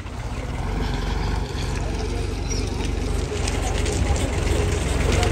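A tractor engine runs before a trolley-pulling strength test. It gives a loud, steady, low diesel drone that holds nearly unchanged for several seconds, close by and with no clear speech over it.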